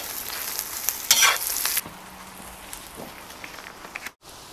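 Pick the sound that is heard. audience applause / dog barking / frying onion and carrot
frying onion and carrot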